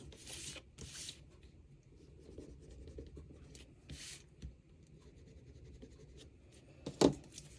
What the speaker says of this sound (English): You can either pinch them in, or I just take my bone folder and burnish.